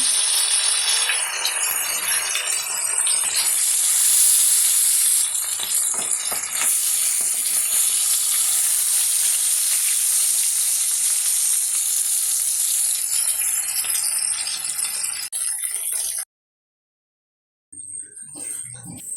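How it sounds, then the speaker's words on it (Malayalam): Fish frying in a pan after being seasoned with plenty of pepper: a steady, loud, bright sizzle that runs almost without a break, stops briefly near the end and then returns more quietly. "വറക്കാണേ"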